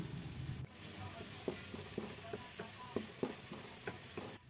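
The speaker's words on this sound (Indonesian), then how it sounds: "Setelah panas, kita masukkan bawang merah dan juga bawang putihnya. Kita tumis sampai harum." Shallots and garlic sautéing in hot oil, a soft sizzle under a run of light, regular clicks and taps from a spatula stirring in the pan, faint and close.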